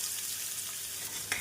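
Chopped onions fry in hot oil with cinnamon, cloves and fennel seeds, a steady faint sizzle with a brief stirring scrape near the end, no talking.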